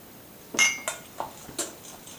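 Bourbon pecan dessert ingredients with vanilla are mixed in a bowl, producing four separate clinks and knocks of a utensil against the bowl over a quiet background, with no talking.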